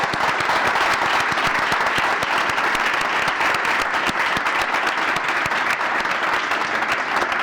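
An audience at a Startup Grind Barcelona event greets a speaker with sustained, dense applause, many hands clapping steadily and loudly throughout.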